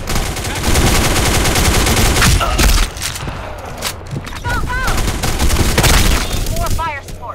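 Gunfire in the Black Squad team deathmatch game on the Santorini map, dense rapid automatic bursts and loud shots in quick succession, with brief pauses and someone talking over the fire.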